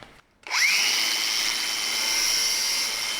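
A Bosch GWX 18V-15SC cordless X-LOCK angle grinder spins up from a brief silence with a rising whine, then holds a loud, steady high-pitched run close by, with no talking.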